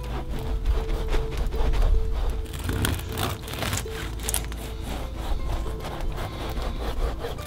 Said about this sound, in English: The bread I'm going to cut into lovely thick slices